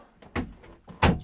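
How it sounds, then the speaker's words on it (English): A door is pushed shut indoors, making two soft thuds of a closing door and latch roughly half a second apart, close and moderately quiet, with no voices. "Gotta close the door."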